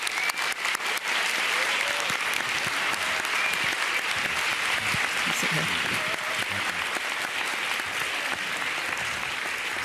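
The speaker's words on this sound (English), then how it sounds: "a big round of applause for our two guests, Jeff Koons and Professor Eric Kandel" A large audience at a moderated art-and-science discussion gives steady, loud applause for guests Jeff Koons and Professor Eric Kandel as they come on stage, a dense wash of clapping lasting about ten seconds.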